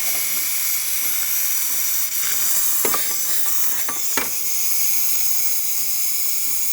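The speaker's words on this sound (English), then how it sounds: "And now the steam, we're gonna test the steam now." Steam wand on a DeLonghi Magnifica espresso machine fitted with a new water pump, hissing steadily and loudly throughout with a few brief sputtering bursts partway through, no talking.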